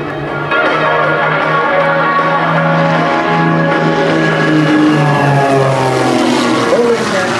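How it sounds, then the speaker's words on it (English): Iron Eagles aerobatic team aircraft fly a formation barrel roll at an airshow, their propeller engines droning loudly and continuously with shifting pitch as the planes move overhead, while an announcer talks over the PA. "bring the aircraft back to our demonstration area for the formation barrel roll"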